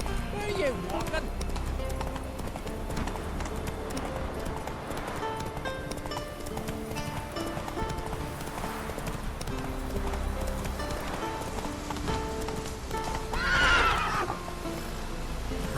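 Hoofbeats of Roach, the horse in The Witcher 3, galloping steadily amid game music and ambience, with a neigh near the end.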